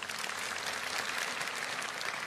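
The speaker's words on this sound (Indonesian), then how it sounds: "berikan tepuk tangan untuk Tuhan." Church congregation applauding after a sermon, a steady dense wash of many hands clapping at moderate distance, continuous and even throughout.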